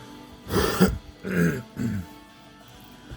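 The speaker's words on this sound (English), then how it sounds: "Sorry, had to clear my throat." Three short, rough throat-clearing bursts, close to the mic and fairly loud, with brief pauses between them and nothing else around.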